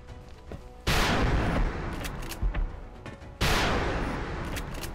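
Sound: rapid gunfire in video game XCOM Long War

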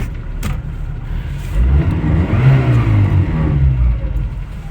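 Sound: Mazda 626 diesel car engine revving

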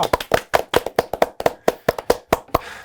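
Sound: applause in studio

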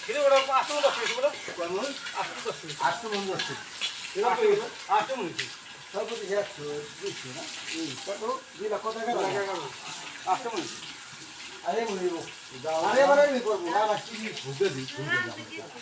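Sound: water poured while bathing a cow

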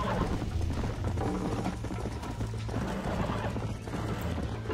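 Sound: horse galloping and neighing, video game

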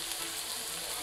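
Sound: chopped tomato frying with onion in pan

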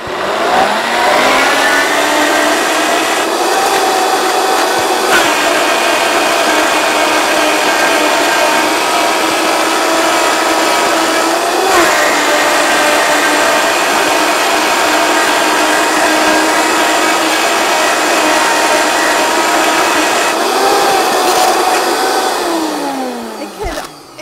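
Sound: blender blending pumpkin hummus

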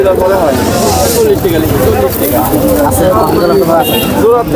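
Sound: pigeons at a pigeon market

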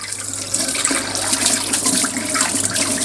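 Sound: tap water washing salmon fish

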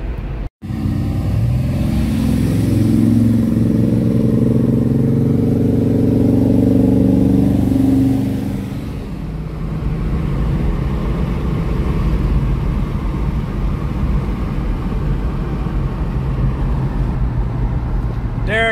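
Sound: old hot rod truck accelerating at full throttle on speedway

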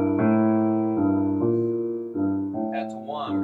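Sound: piano 12-bar blues left-hand groove with comp chord

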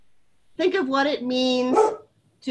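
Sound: dog barking

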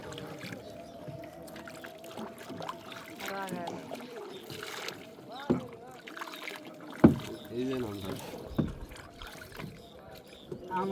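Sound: small fishing boat moving on water

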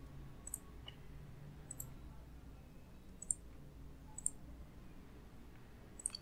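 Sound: mouse clicking in AutoCAD

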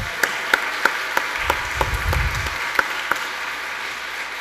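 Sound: audience applause for video crew

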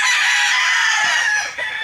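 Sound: chickens clucking and rooster crowing

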